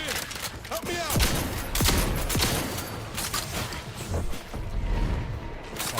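Rapid gunshots in a space cowboy shooter game, a dense scatter of sharp cracks and bursts mixed with crashing impacts, loud and close, with a voice talking over parts of it.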